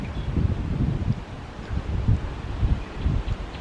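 Strong wind gusting across an outdoor permaculture vegetable garden, a low buffeting roar with rustling that swells and eases in repeated gusts close to the microphone, no voices.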